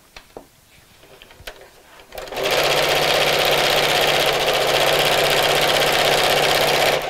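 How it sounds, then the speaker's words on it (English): A sewing machine stitching fleece for a Christmas gift sack starts after a couple of quiet seconds of light handling, then runs in a steady, loud, continuous whir until the end. "I just find it just as easy to line up the edges and sew."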